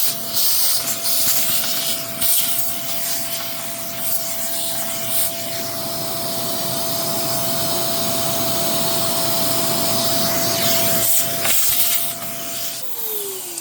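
A strong vacuum cleaner cleans out a clothes dryer vent, producing a loud, steady rushing hiss with a faint constant whine that runs unbroken for the whole stretch before cutting off abruptly at the end.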